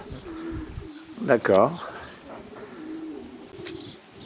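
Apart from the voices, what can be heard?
racing pigeons cooing in a loft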